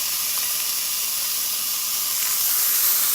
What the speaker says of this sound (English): take some boiling water,